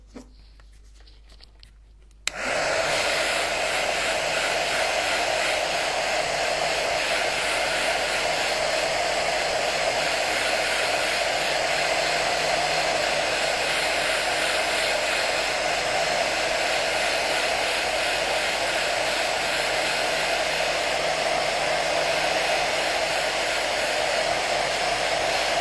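A hair dryer blows on freshly painted stencils, switching on after a short quiet moment and then running as a loud, steady close-up whoosh for the rest of the time, with no talking.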